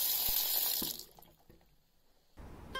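Water runs from a tap in a steady hiss for about a second, then cuts off to near silence before a fainter flow returns; no one speaks.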